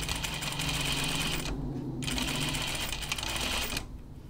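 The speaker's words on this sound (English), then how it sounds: "We're just sewing right over our pins." A sewing machine runs steadily as it stitches dress fabric straight over pins, a continuous close mechanical whir with a brief pause partway through and a slight easing at the end.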